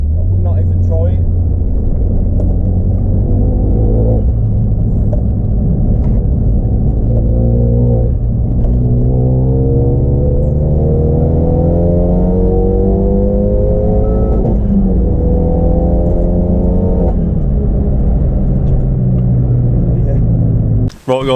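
A car fitted with AR1 semi-slick tyres and coilovers drives along a road with a deep, steady engine rumble close by, its pitch rising and falling through the gears. Someone talks over the engine noise the whole time.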